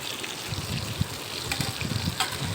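Rice tipped into a pot of heated water for cooking, giving a continuous watery rush and bubbling with small clattering bursts, close and fairly loud throughout, no talking.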